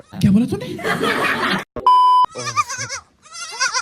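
A goat bleats in short wavering calls amid people talking nearby, with a brief electronic beep tone in the middle.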